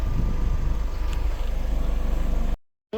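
A Mitsubishi L300 Euro 4 diesel running after a turbo cleaning gives a loud, rhythmically pulsing engine drone with wind noise. It cuts to near silence for a moment before the end.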